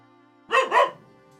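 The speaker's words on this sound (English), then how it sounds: "Bark, bark." A dog gives two quick, close barks in rapid succession, loud against an otherwise quiet background with a faint low hum.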